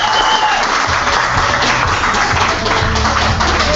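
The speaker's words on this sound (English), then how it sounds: "Give Ross a round of applause" A live audience at a training session bursts into loud, dense applause for Ross. The clapping runs steadily and close throughout, with faint crowd murmur beneath it.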